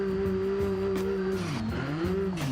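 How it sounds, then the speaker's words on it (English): A video game car on a test drive, its engine holding a steady droning note that dips and climbs with shifts and throttle, with faint tire noise, close and continuous without talk. "let's go for a little test drive just to see if the engine holds power well"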